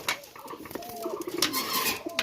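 A female pigeon gives soft, close coos in short bursts, with faint rustles and light chirps around her and no voices.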